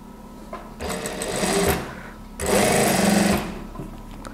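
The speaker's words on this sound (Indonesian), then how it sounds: "Nah, nanti akan saya jahit. Kita mulai jahitnya dari bawah." Two bursts from a sewing machine stitching the armhole of an A-line gamis, a short run and then a longer one, heard close with a quiet pause between them.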